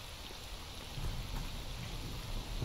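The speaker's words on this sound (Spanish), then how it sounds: "La puta lluvia que no me deja escuchar absolutamente nada, amigo." Heavy rain in S.T.A.L.K.E.R. Anomaly, a dense, constant hiss of falling water over a low rumble like distant thunder. It swells slightly partway through and has no voices.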